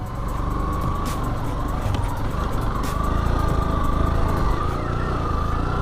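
A motorcycle with a suspected worn clutch plate, ridden on a rural off-road route in Panchagarh, drones with a steady, close engine note that holds and swells gently throughout, with faint background noise.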